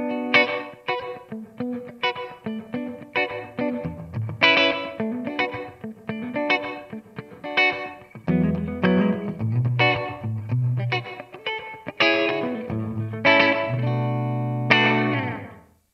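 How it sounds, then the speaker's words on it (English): Electric guitar chords and single notes played through a TC Electronic G-System's short, tight room reverb, each strum decaying quickly into a small ambient tail. "And finally, the room reverb,"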